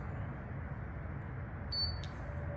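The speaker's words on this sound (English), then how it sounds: "About 3, 4, 5 seconds around about there, and it will start beeping" A key fob emits a brief high electronic beep, a steady tone followed by a short burst, while enrolling with a Videofied alarm system after its arm and disarm buttons are held. It sounds faint over a constant low room hum.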